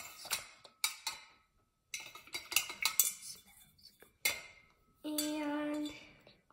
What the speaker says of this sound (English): You're gonna take a stick, you're gonna stir up until you get this really pink puke vomit color.